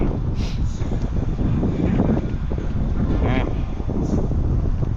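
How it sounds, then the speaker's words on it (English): Strong, steady wind buffets the microphone during a cold bike ride on the Empire State Trail near Little Falls, New York, a loud, continuous low rumble that never lets up over five seconds, with a voice faintly underneath. "Be so glad when this wind goes away."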